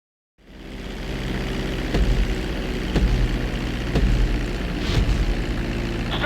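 A fixed-wing airplane's propeller engine during a landing approach in the video game GTA V, droning steadily after a brief silence, with faint rhythmic pulses and no talk.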